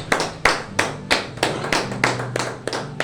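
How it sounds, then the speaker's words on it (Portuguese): Church congregation claps in slow, strong unison beats, roughly three per second, loud and close, with a faint sustained tone underneath and no speech. "Dá uma salva de palmas para Jesus"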